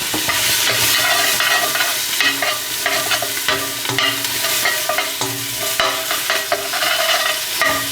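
Onions sizzle loudly in a hot pan while a utensil scrapes and stirs them in repeated strokes, with no voices.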